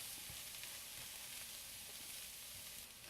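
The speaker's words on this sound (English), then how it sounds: "This is going to be just a quick saute on all of these vegetables." Cabbage and other vegetables sizzling in a pan during a quick sauté, a steady close hiss with faint stirring clicks, no voices.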